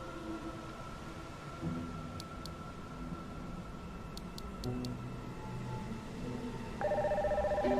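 A phone rings in the video game NieR Re[in]carnation, a steady electronic tone with a few high clicks over a soft game ambience, ending in a brighter chiming ring.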